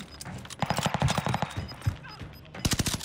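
Rapid video-game gunfire from a buffed Automaton rifle, a burst of sharp close shots in the middle and another quick string at the end, with a voice briefly heard between them.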